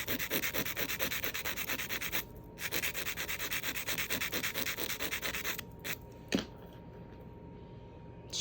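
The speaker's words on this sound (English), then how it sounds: "When you're filing this way, the same thing. Your file should be straight up against the nail." A hand file scrapes back and forth across an artificial nail tip in quick, steady strokes, close and fairly loud, pausing briefly a couple of times before a final lighter few strokes.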